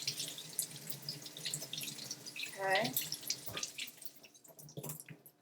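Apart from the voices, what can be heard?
cold tap water washing green papaya in sink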